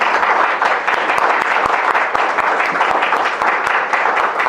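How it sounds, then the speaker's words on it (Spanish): An audience at an academic lecture on a Buddhist monastic topic claps for the speaker, a brisk, close, dense patter of many hands holding at a steady level throughout. "Pido un aplauso para él."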